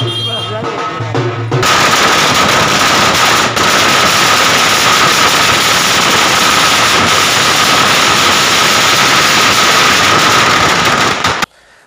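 Firecrackers burst in a long, dense, rapid crackling volley at a BJP party office victory celebration, very loud and continuous after a brief opening stretch of other sound, then stopping suddenly.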